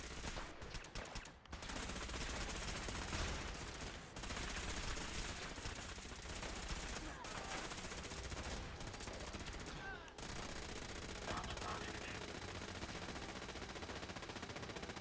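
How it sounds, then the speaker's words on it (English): Rapid, continuous gunfire in Fallout 4 fills the scene, dense automatic bursts broken by brief gaps, loud and close throughout. "Opening fire."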